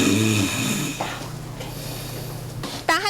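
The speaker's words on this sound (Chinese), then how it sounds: "仔细听，你睡觉时是不是也会像这样打鼾？" A sleeping person snores loudly and close by, with a long rumbling inhalation followed by quieter breathing and a short snort at the end.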